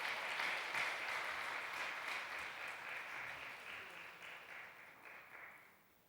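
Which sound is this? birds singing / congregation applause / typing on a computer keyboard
congregation applause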